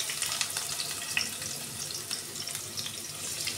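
About a cup of onions frying in two tablespoons of hot oil in a wok, a close, steady hissing sizzle with light crackles and occasional stirring scrapes, no voices.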